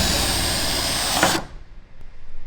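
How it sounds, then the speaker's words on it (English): Power drill boring holes for car side skirts on a V8 BMW build, a loud close whine that runs steadily and then stops abruptly, leaving quiet clatter behind. "we gotta get the drill out, drill holes, and then they go into the factory bolts"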